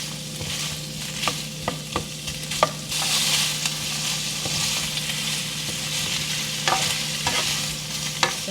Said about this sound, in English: I'm just tossing the shrimp so that it cooks well.